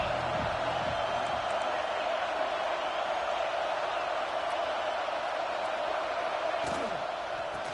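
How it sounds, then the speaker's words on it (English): Stadium crowd at an Arkansas versus Michigan college football game in NCAA 26, a loud continuous roar that stays steady throughout, with occasional faint thuds and shouts rising out of it. "This crowd ready to make its presence known."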